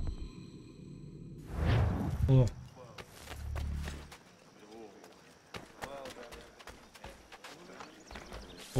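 Horse hooves in Assassin's Creed 3 clip-clop in a quick run and then slower steps, with whooshes and scattered clicks, while a voice talks over part of it.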